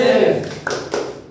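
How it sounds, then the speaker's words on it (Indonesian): A classroom group does a short rhythmic spirit clap, a few quick claps within about a second, heard together with voices. "Tepuk semangat."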